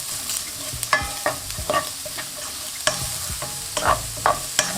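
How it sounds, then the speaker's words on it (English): Finely chopped onions hit a pan with turkey bacon or beef pancetta for a creamy pasta, sizzling steadily while a utensil stirs with repeated scrapes and knocks, close and loud, with nobody speaking. "Now it's time to throw our finely chopped onions."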